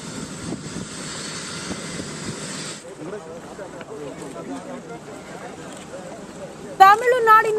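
Helicopter at Kumbakonam in Tamil Nadu, its steady broadband engine and rotor roar loud for the first few seconds, then fading lower beneath voices talking, with a sharp louder burst near the end.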